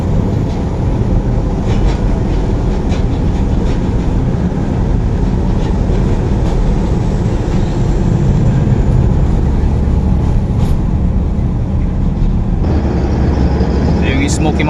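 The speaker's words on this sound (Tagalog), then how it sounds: "Mga truck ating mga kasabayan dito." Heavy trucks rumble alongside in dense Tondo traffic in Manila near Smoky Mountain, a steady loud roar of engines and road noise throughout with a voice talking over it.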